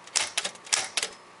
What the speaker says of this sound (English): This one, however, is a manual hammer type.